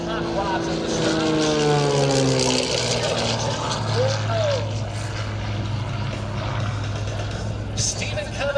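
Gamebird GB1 aerobatic propeller plane at an air show, its engine a loud droning roar that sweeps in pitch as it passes and manoeuvres overhead, with a commentator talking over it throughout.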